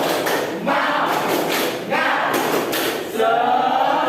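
A school class claps together in a rhythmic spirit-clap pattern, with several loud bursts of hand claps and thuds in quick succession in a classroom.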